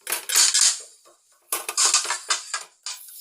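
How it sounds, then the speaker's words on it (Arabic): Dishes, pots and cutlery clatter and clink in loud bursts while someone tidies up a kitchen, with a brief pause between two busy clusters of clanking. "اسفه بقى على صوت المواعين وصوت الخربطه دي"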